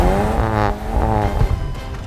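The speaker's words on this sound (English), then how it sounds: "Let's do a little burnout here." A BMW 128ti doing a burnout with stability control off to warm its tires, its engine revving loud and close in a rising drone while the tires squeal continuously.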